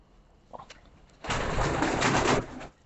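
Madrasi pigeons coo softly at first, then a louder, sustained burst of cooing and rustling follows for about a second before fading.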